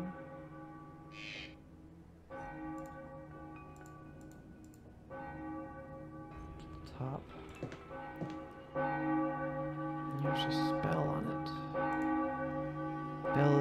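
A damaged, rope-broken bell in the video game Enigmatis 1: Ghosts of Maple Creek tolls repeatedly, each strike ringing out with long resonant decay, the strokes growing louder toward the end.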